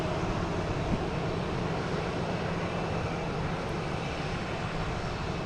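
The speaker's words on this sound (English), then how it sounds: "Here we got Copa. Getting ready to take off to head to Panama City." A Copa airliner getting ready to take off at Boston's Logan Airport for Panama City, heard as a steady, fairly loud broadband engine roar that holds constant without talk.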